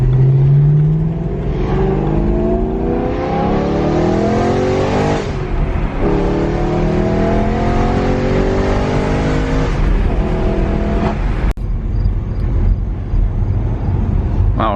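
A BMW M3 drives along with a loud, continuous engine drone whose pitch climbs through the gears and drops at each shift. Wind and road noise lie underneath.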